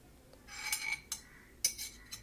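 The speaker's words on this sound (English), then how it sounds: "Now let us transfer the noodles to a serving bowl." Cooked Yippee Magic Masala noodles are moved into a serving bowl with metal utensils, producing a few quiet, close clinks and scrapes of cutlery against the dish, spaced irregularly with no talk.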